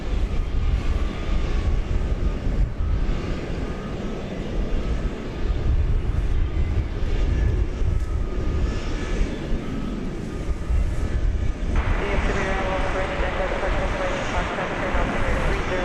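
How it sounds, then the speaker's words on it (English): A Boeing 777 taxis at DFW Airport, its engines giving a steady loud broadband roar that holds throughout, with a rising tonal whine joining near the end. "a 777 taxiing like Southwest."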